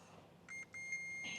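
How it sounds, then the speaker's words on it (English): A continuity tester on the wiring of an Audi R8 gives short electronic beeps: a brief pair of tones, then a longer steady beep, faint against a quiet background. "So this is continuity tester. So it beepy beeps."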